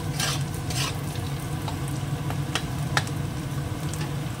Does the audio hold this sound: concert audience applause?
no